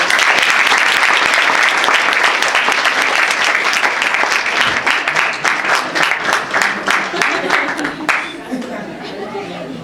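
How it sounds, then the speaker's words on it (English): Audience applause at a live performance, loud and dense at first with people chattering through it, then thinning into scattered claps that fade over about ten seconds. "Okay, a round of applause."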